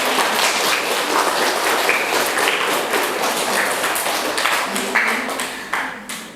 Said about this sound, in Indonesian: Kita aplaus untuk Rizky Wahyuda.